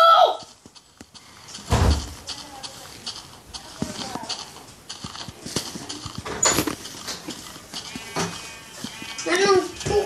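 A sheep in the Minecraft video game bleats briefly amid busy game sound effects and footsteps, with people talking over much of it.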